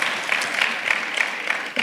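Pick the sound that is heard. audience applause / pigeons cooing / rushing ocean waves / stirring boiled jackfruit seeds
audience applause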